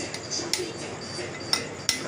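A bearing being gently tapped into a Honda Tena 110 engine case: a few light, sharp metallic taps spaced irregularly, close by and fairly soft, over a steady background hiss.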